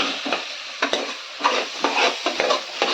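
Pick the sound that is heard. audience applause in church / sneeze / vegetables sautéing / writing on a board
vegetables sautéing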